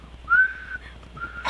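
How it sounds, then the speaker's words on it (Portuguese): A person whistles in a flat monotone, a sustained single-pitch note followed by a shorter repeat of the same note, close and clear with no talking. "o meu assobio não muda de É tom"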